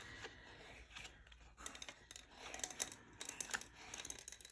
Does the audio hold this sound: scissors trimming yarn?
yes